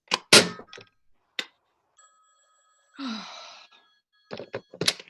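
A telephone rings in a radio play: one sustained ring in the middle, alone, with sharp thuds, clanks and breathy sighs before and after it.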